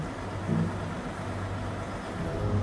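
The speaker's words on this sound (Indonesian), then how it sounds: "Suara mesinnya bagus ya. Ini suara mesin" A Hino truck engine rumbles steadily at low revs in Euro Truck Simulator 2, a continuous mid-low drone with slight swells and no voices over it.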